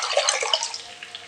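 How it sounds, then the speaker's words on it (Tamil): Dissolved tomato and tamarind water pours into a pot of tomato rasam with a continuous, splashy liquid rush that slowly eases off toward the end, with no voices. "கரைச்சி வச்சுருக்கிற தக்காளி புளி எடுத்து ஊற்றிக்கலாங்க"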